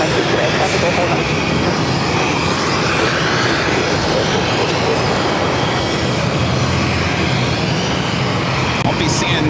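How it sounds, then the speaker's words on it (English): A Boeing 787-9 Dreamliner takes off from a Boston airport runway bound for Tokyo, its engines giving a loud, steady, broadband roar that holds throughout, with voices talking over it. "787-9 Dreamliner will be taking off to Tokyo."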